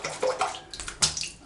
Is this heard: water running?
yes